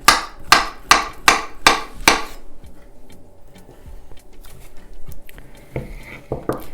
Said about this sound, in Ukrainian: беру його, нарізаю на міленькі такі шматочки